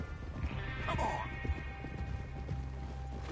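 Horse hooves clip-clop in Red Dead Redemption 2, a steady run of hoof falls over a continuous low rumble, with a voice and a brief whinny-like call mixed in.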